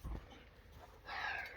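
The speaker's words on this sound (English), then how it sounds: "Luna, this crazy dog. Look at her" A dog whimpers and pants softly close by, with a faint thump at the start and a higher whining burst toward the end, fairly quiet overall.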